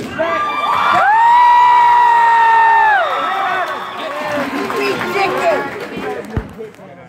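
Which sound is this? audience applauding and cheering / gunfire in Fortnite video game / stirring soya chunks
audience applauding and cheering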